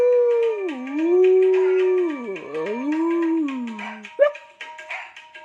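A person imitates a dog in a long, sliding howl-like call, rising and falling in pitch over several seconds, followed by a short sharp yip; loud and close, with no other talk.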